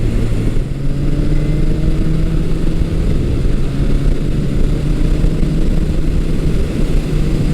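A Yamaha XS1100 motorcycle engine pulls hard on a test ride, a steady loud drone with rising tone as it accelerates, wind rush over it throughout.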